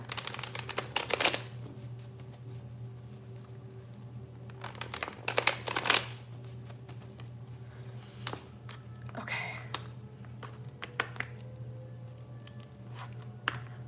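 Quiet tarot cards being shuffled in a few short bursts, with a steady low hum underneath and light handling noises between.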